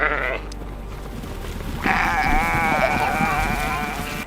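Sheep flocking as they are led into the next paddock bleat in two clear, drawn-out calls, one brief and one long, near and loud over a low rumbling background.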